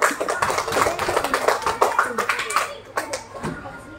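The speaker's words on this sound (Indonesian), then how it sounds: "tepuk tangan untuk Naila dan Nabila." Classroom applause for two children, a burst of clapping from a group of pupils that fades out near the end, with a teacher's voice talking over it.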